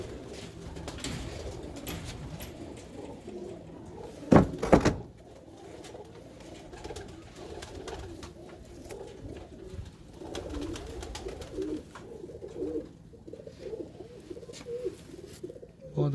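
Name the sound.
pigeons cooing in a loft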